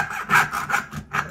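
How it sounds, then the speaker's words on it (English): A hand saw cuts back and forth on a flat surface, the workpiece held in a rotating clamp. Four or five quick, rasping strokes come close and distinct with no talk. "all I have to do is saw, and you're sawing on a flat surface"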